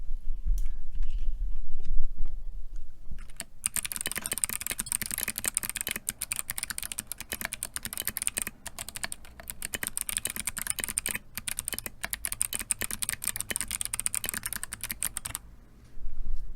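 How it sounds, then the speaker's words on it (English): Fast, continuous typing on a clicky mechanical Fusion60 60% custom keyboard, crisp sharp clicks close up, running for about twelve seconds between quieter stretches. "I'm just going to do a typing sample because I can"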